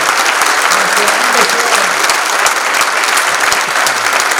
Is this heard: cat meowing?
no